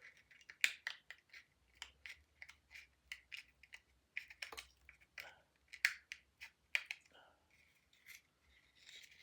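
Scissors snip repeatedly at small shard pieces on a homemade candy jar ornament, a close, crisp run of quick clicking cuts in an uneven rhythm.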